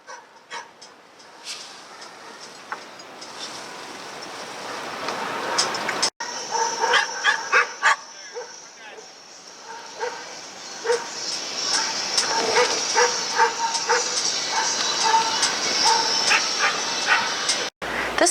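Dogs at a dog boarding facility barking, yipping and whimpering in scattered bursts, some near and some farther off, over a busy kennel room.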